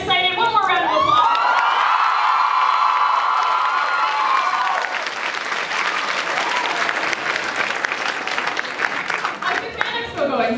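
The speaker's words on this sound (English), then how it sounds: "One more round of applause." Fan Expo Canada 2015 panel audience breaking into loud, sustained applause with cheers and whoops, the clapping filling the hall for several seconds before a voice starts talking over it.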